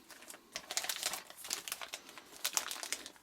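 An emergency foil blanket from a first aid kit is handled up close, giving quick bursts of sharp, papery crinkling and rustling in irregular clusters, with quiet gaps between.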